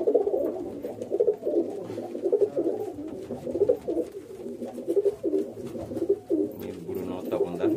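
Several pigeons, including Fulsera, Dubaj and Kaldума breeds, coo steadily in a loft, a dense overlapping chorus of low throaty calls that continues throughout, with a voice talking over the birds.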